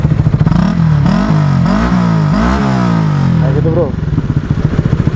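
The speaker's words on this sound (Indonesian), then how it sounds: "kayak suara knalpot Satria FU ya, motor Satria FU nih" A motorcycle engine, a Honda CBR 150R facelift with a Tridente carbon exhaust, revs hard up and down through its exhaust, loud and close, then settles into a throbbing idle; someone briefly speaks.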